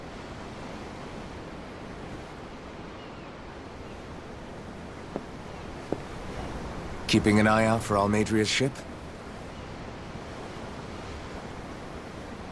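Steady ocean surf in the video game Tales of Arise rolls on as a continuous wash of waves, with a brief spoken exchange rising over it partway through before the surf carries on alone.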